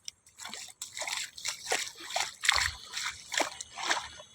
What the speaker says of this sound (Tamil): பாருங்கள், தண்ணி வந்துகிட்டே இருக்கு பாருங்கள்.